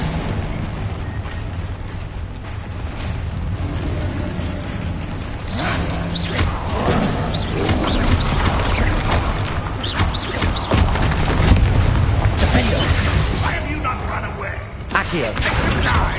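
In Hogwarts Legacy, Confringo spell blasts burst and crackle amid clattering mechanical game effects and combat noise, with a voice calling out spells over the fight.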